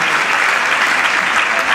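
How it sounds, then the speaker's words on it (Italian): An audience at a 2013 music, art and charity event bursts into spontaneous applause, a full, loud and even roar of clapping throughout. "Eccolo là, l'applauso,"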